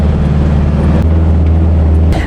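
A camper van's engine labours in first gear up a steep climb to a high fort, a loud steady low drone that holds throughout and drops away near the end.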